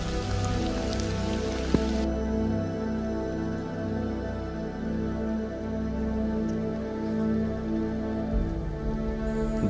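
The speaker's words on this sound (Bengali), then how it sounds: "শুরু হলো আবার বৃষ্টি।" Rain falls steadily on the mountain trek route from Dhotrey to Tonglu, an even, continuous patter under a sustained low tonal hum, with no speech.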